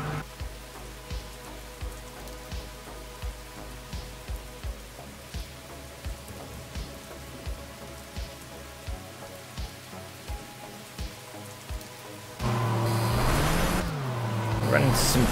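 Steady rain patters across a train cab in the Derail Valley train simulator game, with regular rhythmic clicks from the wheels over the track, and a louder rumbling engine surge near the end.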